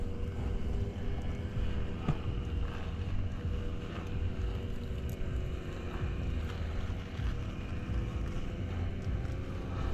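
Small boat engine running steadily at close range, a dense low rumble with wind buffeting the microphone throughout, out on the water during heavy rain and strong wind.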